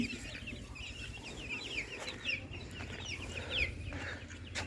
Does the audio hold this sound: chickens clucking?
yes